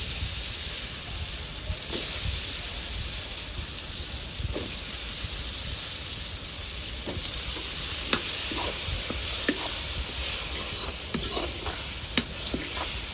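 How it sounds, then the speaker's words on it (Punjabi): A spoon stirs garam masala and turmeric through potatoes frying for bhurji, with a constant sizzling hiss under repeated scraping and clinking strokes against the pan, close and continuous, without speech. "ਹੁਣ ਇਹਨੂੰ ਐ ਚੰਗੀ ਤਰ੍ਹਾਂ ਮਿਕਸ ਕਰ ਦਿੰਨੇ ਆ"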